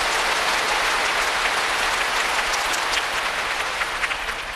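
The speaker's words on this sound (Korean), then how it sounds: "예수님의 십자가의 은혜를 감사하면 우리 한번 박수하십시오." A large Korean church congregation at Yoido Full Gospel Church claps together after a hymn, a loud, sustained, even roar of applause with no speech on top.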